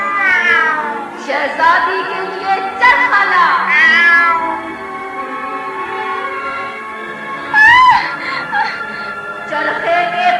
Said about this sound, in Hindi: है मेरी काली बिल्ली,